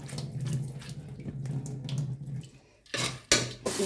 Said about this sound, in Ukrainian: переливаємо у друшлак і промиваємо під проточною водою